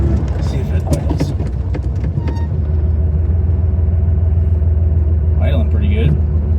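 Air-cooled Porsche 911 engine idling with a steady low rumble, after running unevenly on not all cylinders and being warmed up; a person talks briefly near the end.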